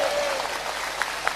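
An audience at an Islamic sermon in Semarang claps in a short burst of applause, a dense patter of hands with a voice briefly trailing off at the start.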